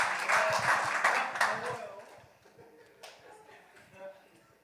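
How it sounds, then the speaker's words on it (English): Church audience applause, loud and dense at first, then thinning and fading into a few scattered claps as voices take over in the room. "Give her a round of applause."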